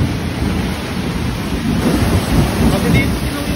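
Sudden heavy rain pours down with rolling thunder after a hot, sunny day, a dense, steady roar of downpour that swells and rumbles throughout, close and loud.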